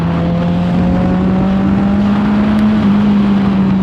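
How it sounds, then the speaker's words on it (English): A 2019 Kawasaki Ninja 1000 motorcycle pulls away at half throttle, its engine a loud, steady close drone that climbs slightly in pitch as it speeds up. "We'll give it a little bit of speed here."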